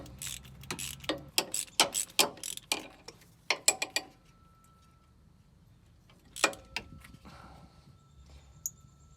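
A ratchet undoing a glow plug on a Duramax diesel engine: a quick series of close, sharp clicking strokes for about four seconds, then quieter pauses and a few isolated clicks.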